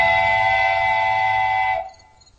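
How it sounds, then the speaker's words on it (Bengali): A train whistle blows loud and steady for nearly two seconds, then cuts off, leaving a faint tone trailing in near-quiet. "এবার ট্রেনের বাঁশি বেজে ওঠে।"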